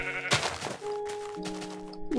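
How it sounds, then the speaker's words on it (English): Sheep bleat in the Minecraft video game: one loud, clear bleat sounds up close, then thin sustained game tones follow with no talking. "Some sheep."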